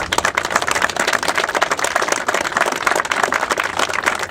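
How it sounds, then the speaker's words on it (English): A crowd at an Earth Day gathering claps together, a busy, steady patter of many hands heard up close with no voices on top. "So give yourselves a round of applause."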